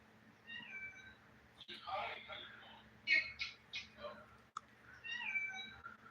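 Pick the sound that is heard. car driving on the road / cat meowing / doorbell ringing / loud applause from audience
cat meowing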